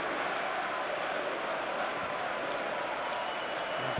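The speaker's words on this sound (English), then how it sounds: "Applause around Stamford Bridge for the sight of Frank Lampard warming up" Applause ripples around Stamford Bridge during a Chelsea v Swansea City League Cup semi-final as a player warms up, a broad, steady wash of clapping from a large stadium crowd, continuous and diffuse.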